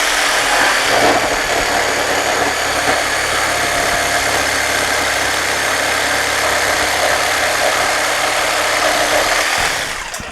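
A Ryobi P5231 cordless jigsaw cutting through maple gives a loud, steady, buzzing motor drone with constant vibration for about ten seconds, then cuts off abruptly at the end.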